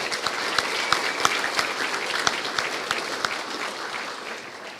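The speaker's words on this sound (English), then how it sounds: "Just a big round of applause for everyone together" An audience at a high school sports, cultural and senior prizegiving applauds steadily, a dense wash of many hands clapping that holds at even loudness throughout.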